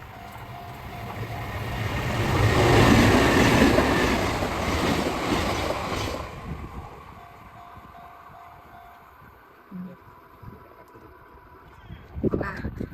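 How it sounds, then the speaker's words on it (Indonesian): A train rumbles past nearby in a narrow lane in Japan, swelling to a loud roar then fading out, followed by quieter street sounds and a brief voice. "Nih kita lihat kereta."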